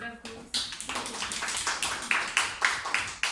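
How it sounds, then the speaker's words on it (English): A club meeting audience breaks into applause, with uneven bursts of clapping hands rising and falling over a few seconds amid a room voice. "please give me a applause to Maria Teresa."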